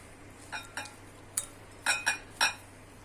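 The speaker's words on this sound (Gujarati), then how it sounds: "બસ આવી રીતે આપણે હલાવી લેવાનું છે" A spoon stirs stuffed gunda and mango pickle in a pot, making about six light, separate clinks and scrapes spread over a few seconds against a quiet background.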